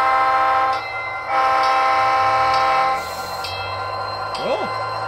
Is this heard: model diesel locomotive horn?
yes